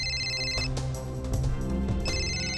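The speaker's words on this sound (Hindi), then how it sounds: "किसका फोन है?" A telephone rings loudly in a home, its electronic tones repeating in short rhythmic bursts with no one talking over it.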